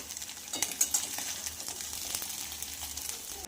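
Egg bhurji is stirred and fried in a kadhai with a steady close sizzle, marked by scraping stirs and light clinks throughout; no voices.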